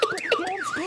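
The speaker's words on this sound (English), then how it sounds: "The car alarm's going off." A car alarm is going off nearby, its loud electronic siren tone sweeping up and down in quick repeating cycles.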